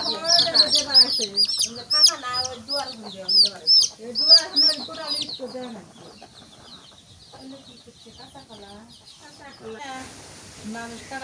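Chickens cluck and chirp in quick, busy bursts at close range, then fade to quieter scattered calls; voices can be heard in the background.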